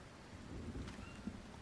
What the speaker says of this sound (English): Oh, it's going to rain.